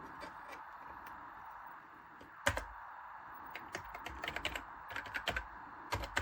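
Fingers type on the membrane keyboard of a Sinclair Spectrum+ home computer with a broken membrane, producing soft, irregular taps and clicks, sparse at first and then quicker bursts of keypresses, near but quiet.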